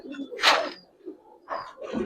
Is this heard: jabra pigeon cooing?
yes